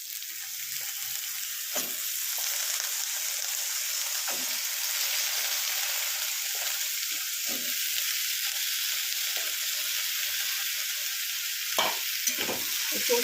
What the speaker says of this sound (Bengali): পোস্তের আলু দিয়ে এটাকে ভালো করে ভাজবো